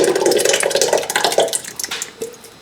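Canned crushed tomatoes pour into a cooking pot with a thick, wet sloshing and glugging that runs for a couple of seconds, close and fairly loud, then tapers into a few soft plops.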